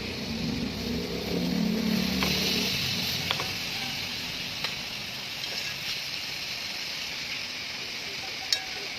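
Pork belly for lechon kawali fries in its own rendered fat with no added oil, giving a steady, close sizzle and crackle throughout, with occasional sharp pops and a brief murmur of speech early on.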